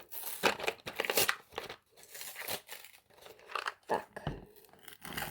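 A second Lego pack is opened up close, its plastic bag crinkling and tearing in irregular bursts with short pauses between them.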